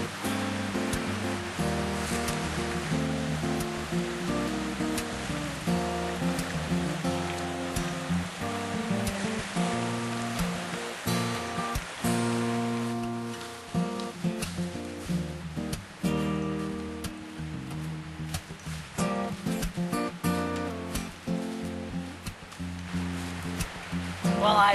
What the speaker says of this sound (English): Just the sound of the water is refreshing.